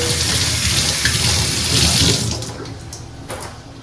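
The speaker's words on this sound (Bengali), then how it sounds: "আচ্ছা ধুয়ে নিই" Tap water gushes steadily into a sink during washing, a loud close rush that eases off after about two and a half seconds, with small splashes near the end.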